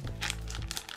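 A plastic surprise-toy packet from a Trolls and Boss Baby surprise set crinkles as it is torn open, a brief close rustle with a couple of sharper crackles.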